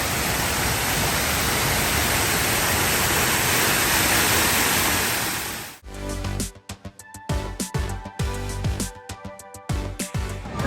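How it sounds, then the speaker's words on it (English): Waterfall at the EPCOT Canada pavilion, a loud, steady broadband rush of falling water for about six seconds before cutting away to other sounds. "Here's the waterfall from up above."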